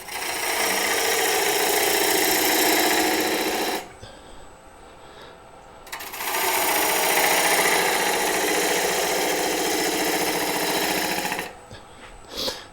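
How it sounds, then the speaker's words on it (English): Wood lathe turning a mulberry bowl while a 1/2 inch bowl gouge cuts, a loud steady scraping roar in two long passes separated by brief quieter pauses when the tool lifts off. "I'm going to go to my smaller 1/2 inch bowl gouge here and become a little bit more refined."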